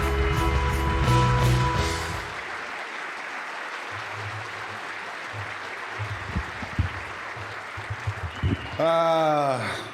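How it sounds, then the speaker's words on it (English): An audience claps through most of the stretch as a broad, even wash of applause, while amplified voices and music sound at the start and end. "Please join me in giving them a round of applause."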